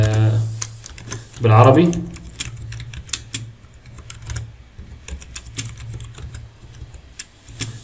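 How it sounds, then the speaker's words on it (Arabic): Computer keyboard typing in quick irregular clicks, close and crisp, continuing after a short spoken word near the start. "لو ابتديت اكتب هنا بقى تاني"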